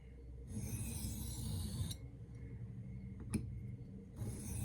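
A knife is sharpened freehand on a whetstone, making a faint, close rasping scrape in long strokes with brief pauses and a light click between passes.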